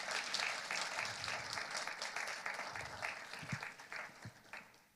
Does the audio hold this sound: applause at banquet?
yes